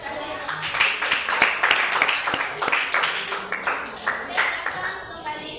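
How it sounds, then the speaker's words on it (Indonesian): Classroom audience clapping during a teacher's coaching session on academic supervision at a school, a dense run of sharp claps that keeps going steadily and slowly thins out, with voices mixed in underneath. "Oke, tepuk tangan dulu."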